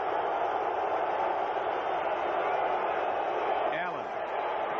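Football stadium crowd at a 1985 Los Angeles Raiders at Cleveland Browns game, a broad steady roar of many distant voices that holds level throughout, with a commentator's voice partly mixed in.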